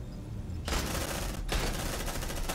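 Dense, loud automatic gunfire from Aliens: Dark Descent fills the whole stretch, a continuous rattling fusillade broken by one brief pause in the middle before resuming.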